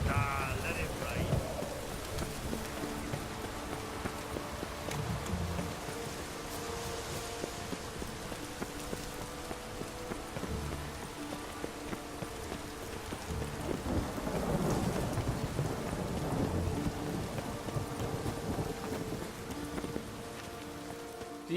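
Rain pours steadily in The Witcher 3 while thunder rolls low in the distance, swelling in a couple of deep rumbles amid a constant wash of rainfall and faint background game ambience.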